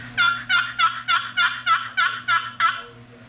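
A Choctaw custom turkey call runs a steady series of nine sharp, evenly spaced yelps, loud and close, with nothing else behind them.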